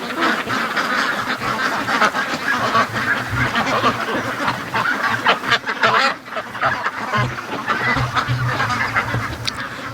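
A crowd of over 600 free-range ducks and 6 geese quack and honk continuously, loud and close, their overlapping calls forming a dense, busy chorus.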